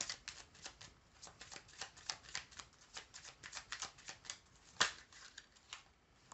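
Lenormand cards shuffled and dealt into a nine-card spread, a quick run of crisp papery flicks and slaps at close range, with one sharper snap near the end and no talking.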